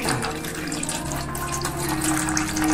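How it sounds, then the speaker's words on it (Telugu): Water drains steadily from pieces of ash gourd wrapped in cotton cloth and weighted down overnight, a continuous close trickling flow with no talking. "తెల్లారి చక్కగా ఇలా నీళ్ళు ఇప్పుడు వచ్చేస్తాయి"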